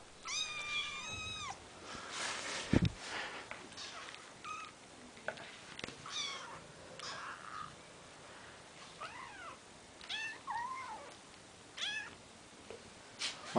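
Several cats meow repeatedly and fairly close, with rising and falling cries overlapping at irregular intervals over a low, steady background.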